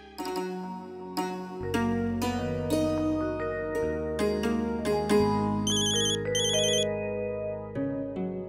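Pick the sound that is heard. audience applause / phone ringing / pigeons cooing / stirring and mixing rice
phone ringing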